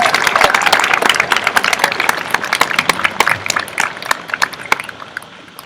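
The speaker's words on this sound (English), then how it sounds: "Let's give our teachers a big round of applause." Audience at an outdoor 8th grade commencement applauding the teachers, dense clapping that gradually thins into scattered individual claps and fades over about six seconds.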